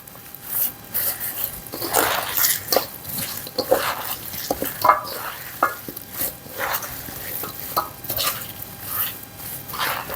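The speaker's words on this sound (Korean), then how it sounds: "양손으로 밑에서 위로 퍼올리듯이 골고루 발라가면서" Rapeseed greens kimchi is tossed with seasoning by hand, lifting from the bottom up. It makes close, irregular wet squelching and rustling bursts that go on throughout.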